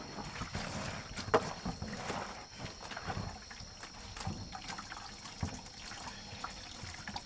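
Water sloshes and splashes irregularly as clothes are washed by hand in a basin with a little disinfectant added, close by, with no talking.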